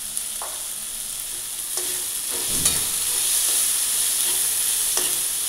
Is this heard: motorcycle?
no